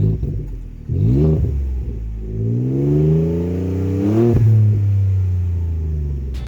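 A lifted, tuned 2013 Ford F-150 with the 3.5L EcoBoost and an aFe cold air intake, its engine revving up and rumbling with rising and falling pitch, loud and close, alone without talk.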